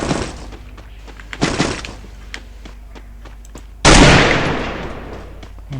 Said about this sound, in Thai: เสียง ปืน